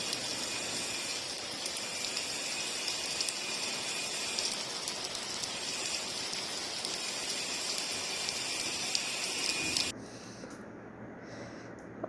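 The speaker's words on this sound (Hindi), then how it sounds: "और आज पिंजौर में देखे कितनी ज़्यादा बारिश हुई, और मतलब बारिश बहुत अच्छी हुई," Heavy rain falls in Pinjore, a dense, steady hiss and patter that stays loud and constant for most of the time, then drops abruptly to a quieter wash near the end. No voices.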